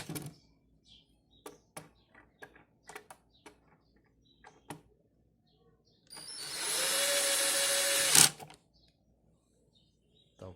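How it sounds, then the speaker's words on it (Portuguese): A power drill boring into wood with a bit, one steady whining burst of about two seconds after scattered faint taps and knocks, close and fairly loud, then it cuts off abruptly. "Primeiro eu furei com a broca."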